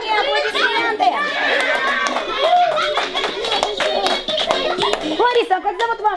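Children and guests at a birthday party clap in an uneven, lively burst, mixed with excited kids' voices, chatter and giggles.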